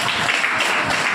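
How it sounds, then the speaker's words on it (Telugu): An audience claps during a Christian sermon, a dense, steady burst of applause lasting about a second with no speech over it. "చప్పట్లు పెట్టుకుంటున్నా"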